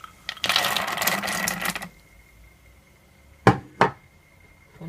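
Almonds tumble into a cooking pot for peanut and almond brittle, a dense rattling pour lasting over a second, followed by quiet and then two sharp knocks near the end.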